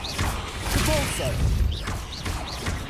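Spell impacts from Hogwarts Legacy, a Depulso force blast among other combat spells, land as a string of crashing, thumping hits with mechanical clatter, moderately loud and busy, with a voice briefly under the action.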